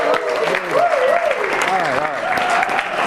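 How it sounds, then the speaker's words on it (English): Audience applause keeps going in the background while someone speaks loudly over it, the clapping a steady wash under his talk. "So, come on, a little more applause."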